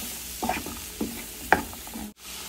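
Shravan ghevda beans tumble into a hot pan and are stirred, giving a few scraping clatters with a soft sizzle between them, close and fairly quiet.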